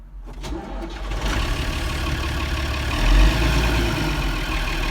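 A Landini tractor's diesel engine cranks and catches, then rumbles into a loud steady idle with a brief rev partway through, close and continuous.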